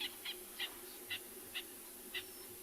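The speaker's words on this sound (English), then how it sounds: "You can hear some birds calling off towards the right" Faint, distant bird calls on a morning safari in South Africa repeat in a steady rhythm of short hoots, about six over a few seconds, above a low background hum.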